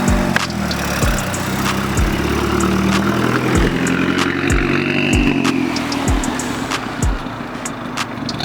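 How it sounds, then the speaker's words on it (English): An idling Volkswagen MK4 GLI with an exhaust leak runs alone at close range, its engine note puttering along with a regular series of sharp ticking pulses roughly every second. "And also has an exhaust leak."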